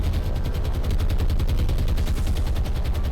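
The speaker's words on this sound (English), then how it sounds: "That looked like a magazine explosion to me." Naval combat in the War on the Sea video game, with a destroyer struck hard: a rapid, continuous rumbling barrage of explosive blasts and heavy gunfire, loud and dense throughout.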